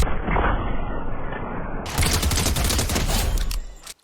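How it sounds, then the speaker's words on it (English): Fortnite shotgun and SMG fire during a fast pump swap from SMG to pump and back, a dense near burst of rapid video-game gunshots followed by louder, sharper blasts before cutting off. "And that is the fastest way to pump swap."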